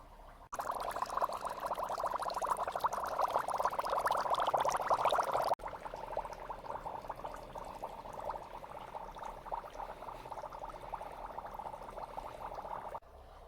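Dry ice bubbling in water, a continuous churning, gurgling fizz that is louder for the first few seconds and then settles into a quieter steady bubble.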